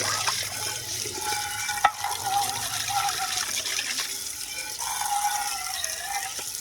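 Running water while a hen's drinking bowl is washed, a steady splashing stream with light clinks and scraping of the bowl, fairly close.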